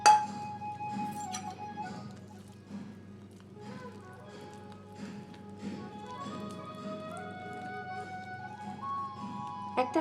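Teler pitha batter being mixed with hot water in a bowl, with light, irregular clinks and taps of a utensil against the bowl, close and quiet, with no voices.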